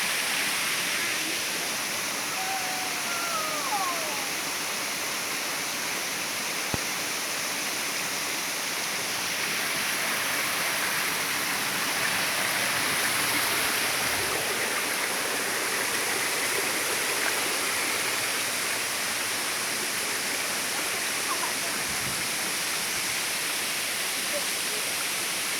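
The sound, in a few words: waterfall on a hiking trail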